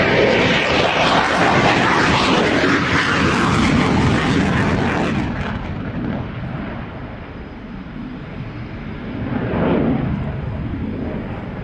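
A fixed-wing aircraft passing loudly and close, its broad engine roar strongest at first, then easing off, and swelling briefly again toward the end.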